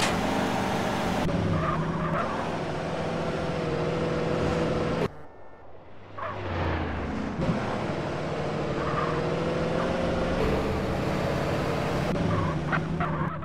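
Video game cars in GTA San Andreas engines roar and tires skid and squeal, with a brief quieter gap midway before the driving noise returns, loud and continuous throughout.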